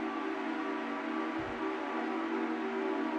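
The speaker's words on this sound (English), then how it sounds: "I think it sounds a little bit like a train," A Deep Conjuring II synth preset sounds like a train: a sustained, droning whistle-like tone with steady harmonics and a brief low thump midway, played alone.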